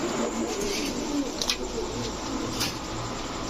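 Pigeons at a seller's pen, including fancy breeds such as Giribaz and silver pairs, coo softly amid steady background noise of a busy spot, the calls low and close.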